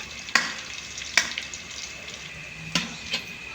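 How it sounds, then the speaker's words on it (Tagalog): A hotdog fries in a pan for pork spaghetti, giving a steady close sizzle broken by a few sharp, loud pops and crackles, with no talking. "ipiprito natin yung hotdog"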